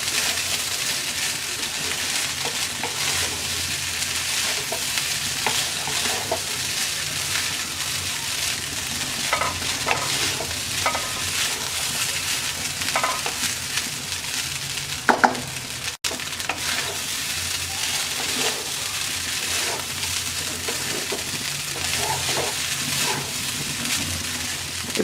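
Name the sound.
stirring chicken vegetable fried rice in a pan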